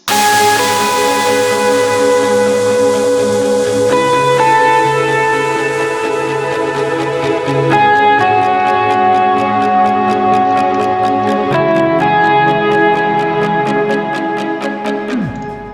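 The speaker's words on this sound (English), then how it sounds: "so that the listener can only hear the plucker" A plucked synth melody of short, bright notes repeats in steady rhythm over sustained tones, continuous and clear with no voices.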